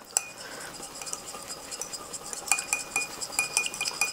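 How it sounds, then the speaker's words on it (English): A small whisk beats hollandaise sauce in a bowl, producing quick irregular metallic clinks and scrapes that grow busier in the second half. "I take my little handy whisk here and I'm just going to whisk it up."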